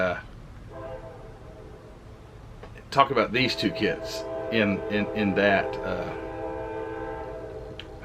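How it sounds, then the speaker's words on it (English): Someone talks in the foreground as a train horn sounds loudly nearby, blaring in harmonic blasts that linger under his voice. "you gotta love living beside a train track"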